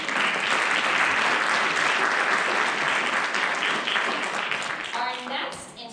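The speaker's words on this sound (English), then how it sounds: "Can we clap for them one more time, please?" An audience at a school band concert applauds the student players, a dense, sustained clapping that fills most of the moment before fading as a voice begins.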